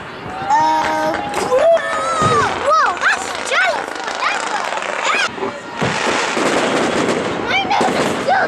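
Fireworks bursting at a July outdoor event in Big Bear, with repeated crackling pops and booms, some whistling rises, and people shouting and cheering over them.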